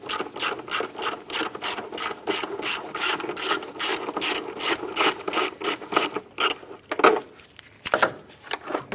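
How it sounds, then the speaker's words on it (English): An 8mm socket on a ratchet works loose an airbox bolt on a 2005-2007 Ford Five Hundred, clicking in rapid regular bursts close up, pausing briefly toward the end. "Using an 8mm socket and ratchet, remove the bolt holding the airbox base in place."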